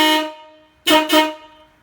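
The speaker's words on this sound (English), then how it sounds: "this is what it sounds like with my 2 horns" Two cheap truck-style train horns bought online blare a chord-like honk, one long blast followed by two short toots close to the microphone.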